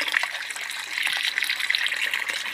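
Water gushes and splashes while the bottom of an Aqua One 750 series 2 aquarium canister filter is rinsed out, a steady, fairly close wash of sound with no voices.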